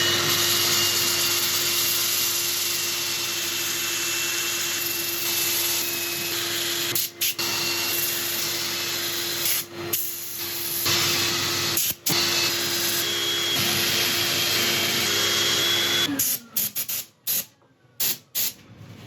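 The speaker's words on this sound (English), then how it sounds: "I'm going to set up for sanding" A turned wooden piece spins on a lathe while being sanded, giving a steady motor hum under a broad, sustained hissing abrasion, with brief breaks where the sanding stops and a stuttering halt near the end.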